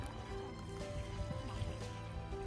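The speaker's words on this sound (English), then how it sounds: "Wash this, we're gonna throw this water." Dirty rice-washing water pours out in a steady, close splashing stream that runs without a break over low background noise.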